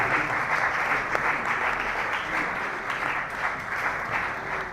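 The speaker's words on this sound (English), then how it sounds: "Ladies and gentlemen, with a big round of applause, let's welcome Dr. Kayode." Sustained audience applause welcoming a speaker to the stage at a campus entrepreneurship event, steady and dense clapping throughout with a brief voice faintly audible underneath.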